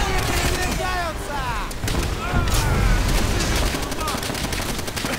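Gunfire in a World War II shooter video game with an M1 Garand rifle, sounding as dense rapid shots and bursts running continuously over a noisy battle background, with brief voice-like fragments in the mix.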